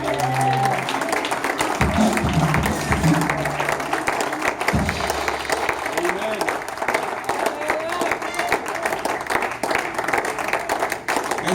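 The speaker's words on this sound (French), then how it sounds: "acclamons très fort pour le roi." Church congregation applauding loudly at a French-language service, a dense continuous wash of clapping from a large indoor crowd, with a speaking voice and cheers heard over it early on.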